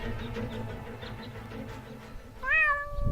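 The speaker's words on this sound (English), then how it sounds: "my poor kitty climbed up the tree and she's afraid to come down" A single cat meow from the video game Deponia, a cat stuck up a tree, rises and falls clearly near the end over a steady bed of game music and ambience.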